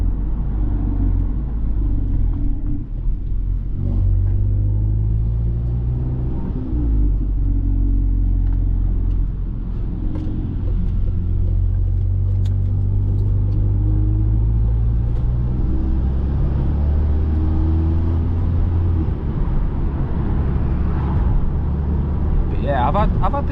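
A stage 3 tuned Volkswagen Golf R, remapped, drives along with a deep steady engine rumble and road drone from inside the cabin while someone talks over it.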